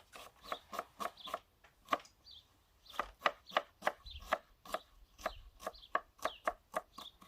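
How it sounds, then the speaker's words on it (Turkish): Steady knife chops on a cutting board as onions are finely diced, a quick rhythmic series of sharp close taps with brief pauses, no talking. "küçük küçük doğrayarak başlayacağız."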